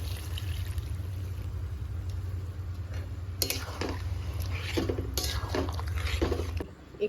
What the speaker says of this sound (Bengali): একটু গরম জল দিয়ে গুলে নিচ্ছি।